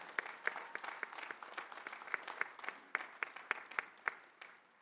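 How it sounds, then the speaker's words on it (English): Applause at a university graduate commencement ceremony: a modest crowd claps steadily, with some louder individual claps standing out in a rough rhythm, heard from a moderate distance. "Let's give them another round of applause."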